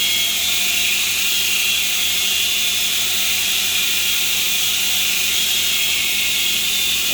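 A homemade 2x72 belt grinder grinds a quarter-inch piece of metal, a loud, continuous bright hiss of abrasive over the steady motor whir, close and unbroken throughout.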